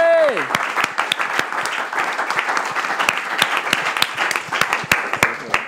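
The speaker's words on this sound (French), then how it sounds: "monsieur André Kassaï, que je vous prie d'applaudir très fort" A crowd at a competition final claps and applauds steadily for several seconds, a dense, even patter of many hands with a few sharper claps standing out.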